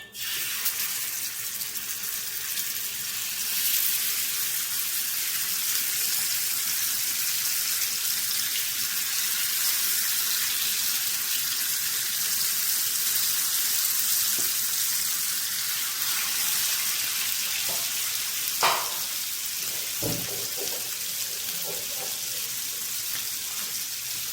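Fish frying in hot oil for biryani, a steady loud sizzle and crackle running throughout with a few brief pops and bubbling spurts near the end.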